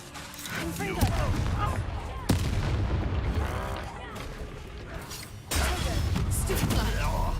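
Fire spells blasting in a Harry Potter style video game, a series of loud booming bursts with rumbling tails, one sharp hit, all under a voice calling out spell names.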